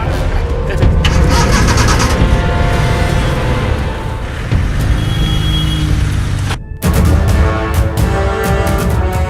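A car engine starts and the vehicle pulls away, a loud, dense rumble running nearly throughout, with a brief silent break near the end before the engine noise resumes.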